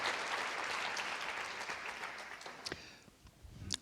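A lecture audience gives steady applause that fades over a few seconds into scattered claps and small room noises.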